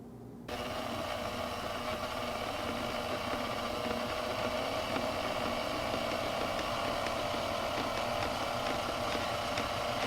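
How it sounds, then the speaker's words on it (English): A skein winder winds a hand-dyed yarn skein into a ball, giving a steady, continuous mechanical whir with a faint ratcheting texture from start to finish, close and even, with no talking. "So this is my skein winder."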